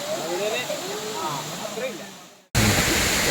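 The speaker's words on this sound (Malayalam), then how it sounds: "നല്ല വെള്ളച്ചാട്ടമാണ്." People talk briefly near Thusharagiri waterfall in Kozhikode, then a loud, continuous roar of rushing water abruptly fills everything.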